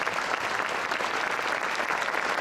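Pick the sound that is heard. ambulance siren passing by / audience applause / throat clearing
audience applause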